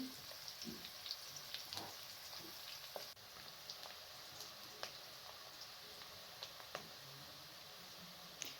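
Onion and garlic frying in oil, a faint, distant crackling sizzle with scattered small pops and ticks throughout.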